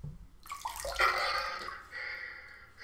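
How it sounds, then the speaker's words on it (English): An iPhone 6S in a LifeProof Nuud case is dunked underwater, giving a close splash and gurgling rush of water, followed by a softer bubbling wash. "Let's dunk it underwater and see how it does."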